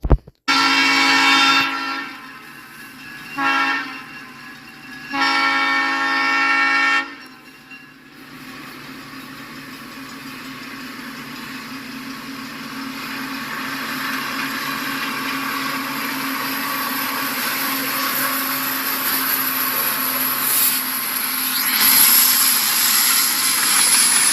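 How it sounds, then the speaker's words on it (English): A loud multi-tone CN freight train horn sounds in several long blasts in Durand, Michigan, then the rumble of the passing eastbound train builds and continues steadily. "let's go ahead and listen to this horn"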